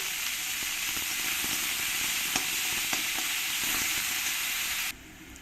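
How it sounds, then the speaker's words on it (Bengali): Onions fry in a pan, cooked toward a light brown, with a continuous hissing sizzle and scattered small crackles. The sizzle drops away abruptly just before the end. "পেঁয়াজগুলো দিয়ে একটু ভালো করে আমি লাল লাল করে পেঁয়াজগুলো ভেজে নেব"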